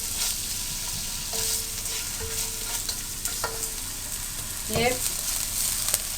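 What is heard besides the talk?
chicken frying and sizzling in pan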